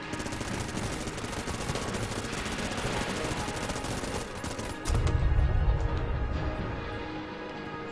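Rapid continuous gunfire from a Vulcan cannon rattles densely in the video game Enter the Gungeon, a fast mechanical stream of shots that deepens into a heavier roar near the end.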